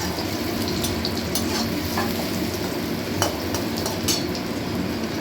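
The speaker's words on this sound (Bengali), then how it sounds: "একটু নুন হলুদ দিয়ে এটা ভেজে নিচ্ছি।" Watermelon rind fries with salt and turmeric, giving a steady, close sizzle with occasional stirring scrapes and light clinks of a utensil against the pan, and no talking.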